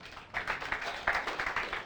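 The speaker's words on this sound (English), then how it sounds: "Let us clap hands for God." Church congregation clapping hands during worship, starting after a brief quiet moment and then rolling on in irregular bursts of many overlapping claps at moderate loudness.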